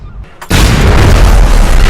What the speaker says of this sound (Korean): 방심을 품은 경쟁자가 설치한 폭발물로 인해 삼촌은 허무하게 폭사해버리죠.